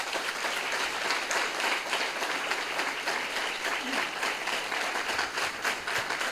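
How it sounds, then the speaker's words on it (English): Audience at an evening gathering applauds a 99th birthday celebration for Dada J P Vaswani; dense, steady clapping fills the whole stretch without a break. "I think all the claps will not be enough"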